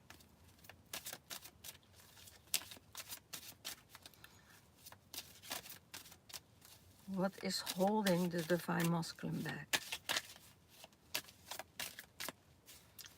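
Tarot cards being shuffled give a run of soft, irregular riffling taps and slaps close to the microphone, with a person speaking briefly over them.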